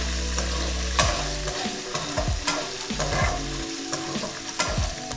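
Small shallots sautéing in a pan for a mutton chukka, a steady frying sizzle broken by repeated scrapes and clinks of a stirring spoon, close and fairly loud, with no talking.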